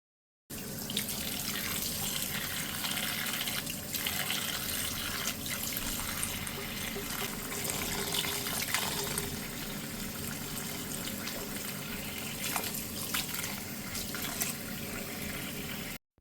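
Plain tap water running steadily from a faucet into a sink or tub while a silicone baby doll is bathed, a loud continuous splashing stream with no speech.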